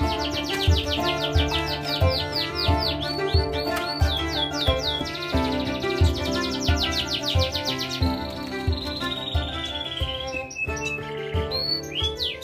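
A red siskin and a canary chirping and trilling rapidly and continuously, close and bright, over steady music in the background.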